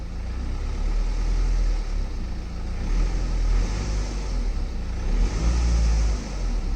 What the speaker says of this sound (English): so a couple tiny revs.